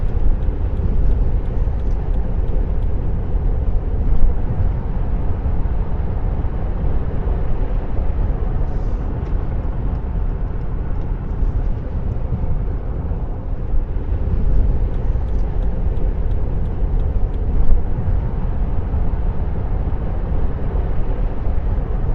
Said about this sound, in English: We've got some cars coming in off the slip road.